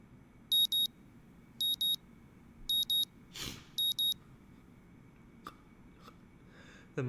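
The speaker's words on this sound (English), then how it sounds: "the sound of my alarm quickly has me up and about" Alarm clock in the visual novel game Katawa Shoujo beeping in short, sharp double pulses repeated four times at a steady rhythm, with a few faint clicks and rustles between.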